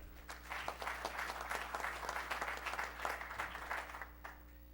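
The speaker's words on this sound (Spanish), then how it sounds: "Lo recibimos con un aplauso especial" An audience gives steady applause to welcome a speaker at a mining society event, dense clapping from a large room at moderate distance, continuing evenly before thinning out at the end, with a low hum underneath.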